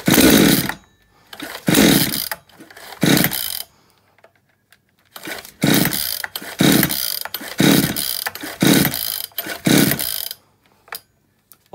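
Repeated pull-start attempts on a flooded chainsaw that will not fire, a series of loud rasping cranking bursts in uneven groups separated by short silences, close up and with no talking.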